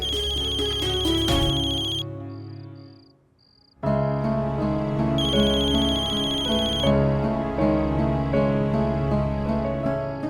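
A phone ringtone plays loud and close as a melodic electronic tune, breaking off briefly near the two-second mark before resuming and continuing steadily.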